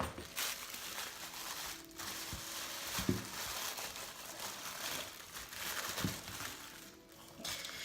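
Bright pink wrapping paper crinkles and crumples as a beauty box is unwrapped, with steady rustling bursts and a few sharper tears, fairly close and moderately quiet, no talk.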